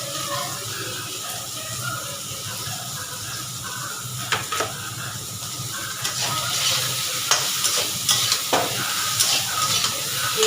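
Vegetables frying in a pan with salt and turmeric, a steady close sizzle with scattered clinks and scrapes of stirring that grow busier toward the end.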